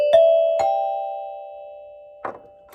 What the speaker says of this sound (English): If I played those same chime bars.